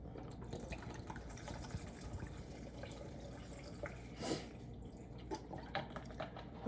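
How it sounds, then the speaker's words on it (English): Coconut water poured into a juice being prepped with grapefruit in a home kitchen, a faint trickling and dripping stream with a few small clinks, quiet and without talk. "Putting some coconut water."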